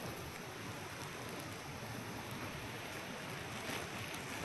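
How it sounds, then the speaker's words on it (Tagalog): Steady wind rushes and buffets against the microphone, a broad continuous hiss with no talking. "Yan ang hangin pa po sa taas."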